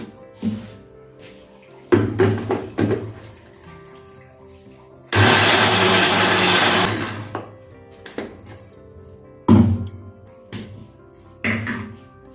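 A mixer grinder whirs loudly for about two seconds as it blends jaggery, oil and sesame powder for black sesame laddu, set among kitchen clinks and handling noises before and after.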